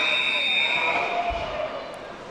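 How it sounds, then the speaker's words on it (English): A college ice hockey end-of-period buzzer at an arena, Auburn playing at Georgia, holding a loud, sustained electronic tone over crowd noise until it fades near the end. "Auburn fires a shot shortly after the buzzer sounds, and that will do it for the second period"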